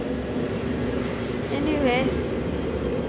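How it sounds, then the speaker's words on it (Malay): An airplane flies overhead in the background, a faint, steady droning hum beneath a person talking. "bagus juga background tu kan, bunyi kapal terbang"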